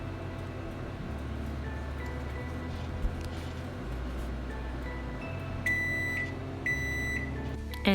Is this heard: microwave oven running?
yes